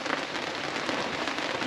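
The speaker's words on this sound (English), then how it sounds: "it's thunder and lightning and rain this evening" Rain falls on a sailing boat during an evening thunderstorm in the Ionian, a steady close patter and hiss of drops drumming on the deck and surfaces, unbroken and fairly loud.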